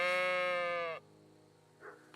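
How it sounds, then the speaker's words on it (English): A lost ram in the video game Kingdom Come: Deliverance II gives one loud, drawn-out, wavering bleat lasting about a second, followed by a faint murmur. "This must be the lost ram. Greetings, sheep."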